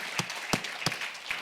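A church congregation at a pastors' seminar sermon claps sparsely: four or five distinct, fairly faint hand claps spaced unevenly over a second and a half.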